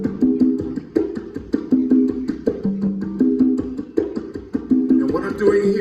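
Two tumbadora conga drums play an Afro-Cuban son tumbao, with repeated tonal open strikes and slaps in a steady interlocking rhythm, close and clear with no talking.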